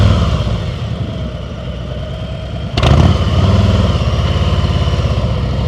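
Motorcycle engine running at low revs during slow-speed riding practice on a Maryland training course, a steady loud rumbling idle that rises slightly midway and holds, close to the bike.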